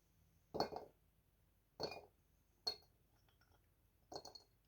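A glass jar takes pickling ingredients for cucumbers: cherry leaves, black pepper and bay leaf. Four separate bursts of clinking glass sound close by, spaced apart in a quiet room.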